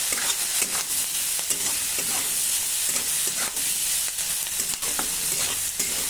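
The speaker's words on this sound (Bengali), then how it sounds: "স্বাদ মতো লবণ, হাফ চামচ হলুদের গুঁড়ো দিয়ে একটু নাড়াচাড়া করে নিলাম।" Fish being stirred with salt and turmeric in a hot frying pan, a steady loud sizzle and hiss with scraping stir strokes throughout, no voices.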